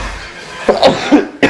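A person with a cold coughs several times up close, short harsh bursts separated by brief pauses, loud against a quiet background.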